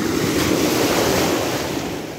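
Waves from a stormy Black Sea break on the shore at Odesa, a loud continuous roar of surf and wind that fills the whole stretch with no voices.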